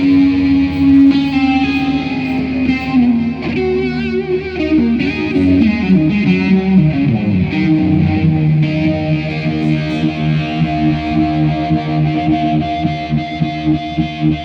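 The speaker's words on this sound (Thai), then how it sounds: "จูนิไวฟ์เป็นเสียงคล้ายๆคอรัสอย่างหนึ่ง" Distorted electric guitar through a Uni-Vibe effect, a swirling, warbling chorus-like modulation, played continuously and loud with thick sustained chords and no voices.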